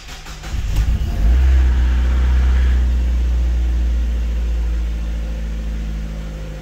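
A Mazda Miata NB engine cranks briefly and catches, then settles into a steady, close idle that runs on alone after the start, with a low rumble throughout.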